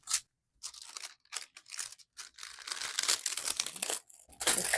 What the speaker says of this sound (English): Sorry for that crinkly noise.